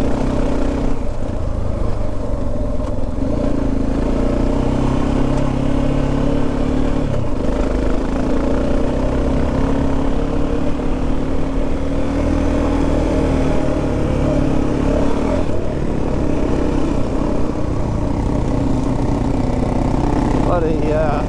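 Suzuki DR-Z dual sport motorcycle putting along on a group ride, a steady mid-pitched engine drone with wind rumble running throughout, fairly close and unbroken.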